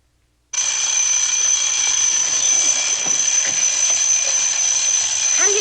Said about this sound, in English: Why does anyone who doesn't sleep well have an alarm that sounds like Big Ben that can't be turned off?